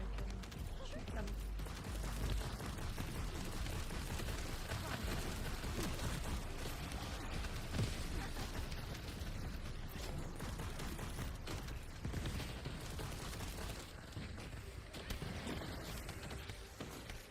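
Rapid gunfire rattles almost without pause while enemies are shot down in the video game Waves of Wuthering, a busy stream of overlapping shots and mechanical clatter at moderate level.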